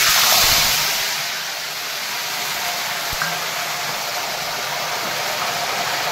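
Hot tempering spices of dried red chilli, cumin, cardamom and green chilli hiss loudly as water is poured in, a strong sizzle that settles into a steady, continuous frying hiss with no voices.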